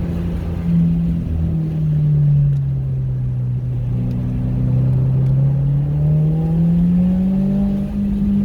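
A 2022 Subaru WRX engine drones loudly while driving through a turn, its pitch sagging then climbing steadily as revs rise, with no one speaking.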